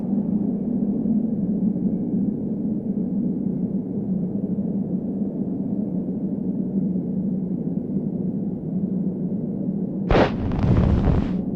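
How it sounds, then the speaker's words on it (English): A steady low rumbling roar, like an avalanche set off by an explosion in Secret Files Tunguska's Antarctic station, holds for about ten seconds before a short, sharp, loud burst breaks through at the end. "Wow, what an explosion! It appears that it even triggered a small avalanche"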